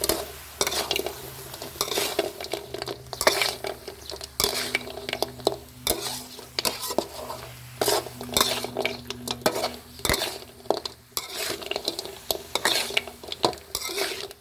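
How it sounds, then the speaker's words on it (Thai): Fried pork ribs tossed and stirred in a simmered Thai three-flavour chili sauce, with repeated scraping and clinking of a utensil against a pan over a low sizzle, steady and close. "เสร็จแล้วเราก็ใส่ซี่โครงหมูทอดลงไปคลุกเคล้าได้เลยครับ"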